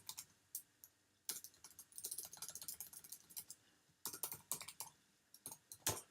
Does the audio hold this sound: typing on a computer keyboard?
yes